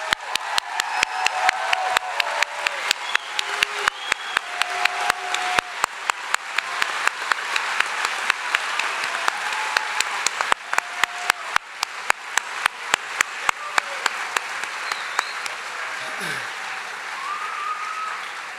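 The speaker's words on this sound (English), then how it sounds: "let's have a round of applause for everyone" Applause at a medical school white coat ceremony: an audience claps steadily for a long stretch, with sharp individual claps in a regular rhythm above a steady crowd wash.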